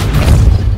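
A Depulso spell fires in Hogwarts Legacy as one short, loud, low boom that fills the whole moment, with no voice over it.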